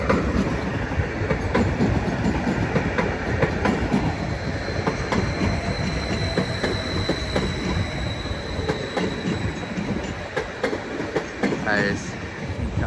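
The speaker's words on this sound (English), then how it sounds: "the 13:39 Greater Anglia service to Norwich from Liverpool Street" A Greater Anglia train bound for Norwich pulls into Ipswich station with a loud, close rumble and rhythmic wheel clatter, steady throughout, with a faint squeal near the end.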